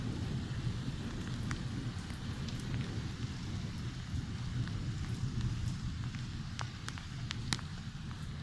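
Rain falls hard during a July thunderstorm in Bath. It is a dense, continuous downpour with crisp nearby drips ticking through it, and no clear thunderclap stands out.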